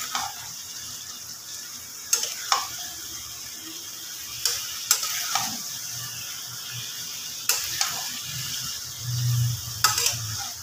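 Chicken being stir-fried into kosha in a pan with a little water, giving a low, steady sizzle with occasional sharp scrapes and knocks of a spatula against the pan.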